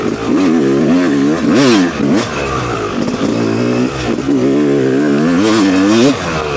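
A Yamaha YZ250 two-stroke dirt bike ridden on a singletrack trail at Minooka Park, Alabama, its engine loud and close, revving up and down repeatedly with quick throttle blips and sustained high-pitched wails.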